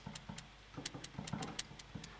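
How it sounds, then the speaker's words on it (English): Two different hi-hat samples playing together: crisp ticks in an uneven, layered rhythm, with some hits doubled closely together, played alone without voices. "So we have two different hi-hat sounds playing at the same time"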